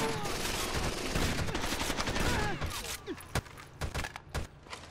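Video game shotgun and gunfire in a hectic firefight, dense loud volleys at first, then thinning into separate sharp shots and thuds.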